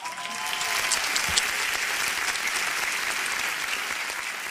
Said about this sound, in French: par un groupe magnifique qu'on applaudit encore.